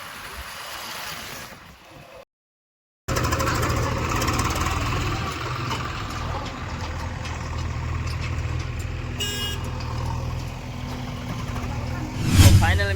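A motorcycle rides along a village route toward a farm where a JCB and tractor are working, giving a steady, close engine drone with wind rumble, broken by a short dropout early on.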